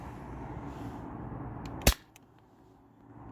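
A modded Sabre home defense launcher firing a round on a low-pressure CO2 tank, a single sharp close pop breaking a low hum, followed by faint clicks and quiet.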